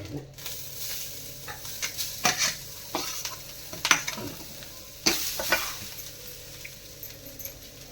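Grated coconut roasting in a pan, a soft continuous sizzle broken by repeated scraping and stirring strokes of a spatula, close and fairly quiet.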